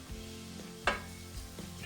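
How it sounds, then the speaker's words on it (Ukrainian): Gentle sizzling of onion frying in a pan, with a quick scraping stir partway through and soft clinks. "Цибулька смажиться до золотистого кольору"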